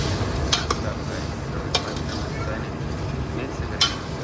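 A spoon scrapes and stirs through a shrimp curry with turmeric in a pan, soft sizzling under a steady noisy background with a few sharp clinks against the pan.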